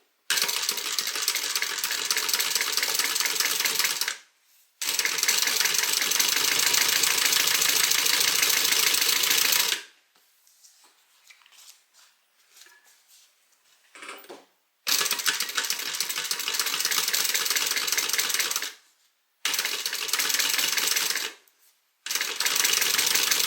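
Sewing machine top stitching a seam on a pocket, steady rapid stitching in several long runs separated by pauses and quiet handling sounds.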